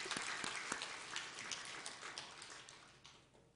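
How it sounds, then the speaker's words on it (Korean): Applause from a church congregation honoring the choir, a quiet, fairly distant patter of clapping that fades out toward the end. "그럴 땐 박수 한번 쳐주는 거야."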